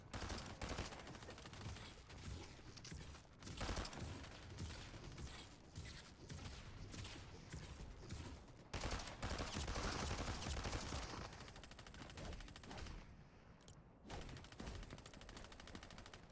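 Rapid, sustained gunfire from Fortnite fills the whole stretch, dense volleys and bursts repeating almost continuously with a few brief gaps, loud and close with little talk.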